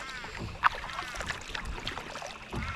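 A paddle dips and pulls through water beside a closed-in kayak, giving soft irregular splashes and drips close by, with light wind noise and a couple of sharper knocks.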